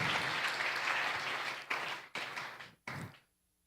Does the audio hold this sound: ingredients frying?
no